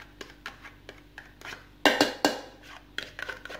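Cream and cheese being stirred together in a bowl for tiramisu, a spoon or whisk clinking and scraping against the sides in irregular bursts, close and fairly quiet, with a louder flurry of knocks midway.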